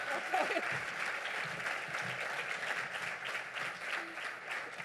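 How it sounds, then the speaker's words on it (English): An audience at an education luncheon applauds teachers with steady, moderately loud clapping, with faint voices mixed in at the start. "I will clap for you right now."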